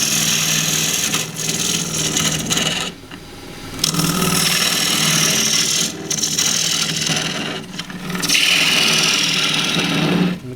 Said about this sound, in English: I'm going to use a 3/8 bowl gouge to start with.